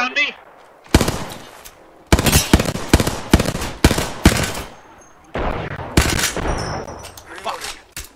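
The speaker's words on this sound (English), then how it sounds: "is that you, shooting that, Brick?" Apex Legends gunfire rattles in close, loud automatic bursts and single sharp shots, several volleys separated by brief gaps, with a few voices mixed among the shots.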